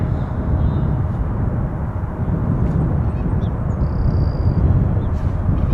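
WestJet airliner at Toronto Pearson airport, heard as a steady, loud low roar of jet engine noise that holds evenly throughout with faint high whines above it.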